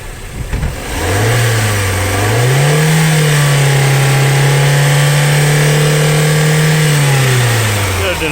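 A car engine is revved as the accelerator is pressed, rising from idle to a loud, steady high rev that holds for several seconds and then drops back down, heard close up with no talk.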